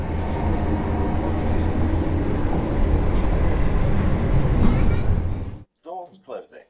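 Train at Partick station in Glasgow, a loud continuous rumble of rolling stock and traction noise that cuts off abruptly, followed by a few spoken words.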